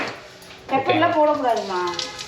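Hot oil hisses and sizzles in a pan, nearby and steady, while a person talks over it, cooking egg semiya biryani.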